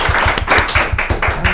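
Brief applause for a returning guest on a music stream, a short patter of clapping from a small group, evenly spread and fairly close.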